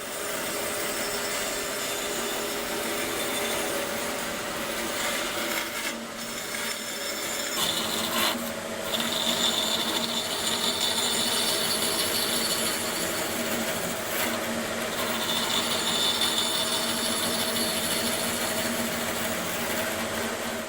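A handsaw is worked freehand, nibbling small notches into a piece of wood. It gives a steady, continuous rasping, rubbing stroke sound, close and even for the whole stretch, with no talking.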